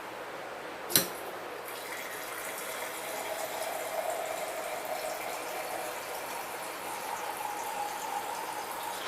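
Filtered water trickles into a jar to top off homemade apple cider vinegar, a faint steady pouring and bubbling that runs for several seconds after a single sharp knock near the start.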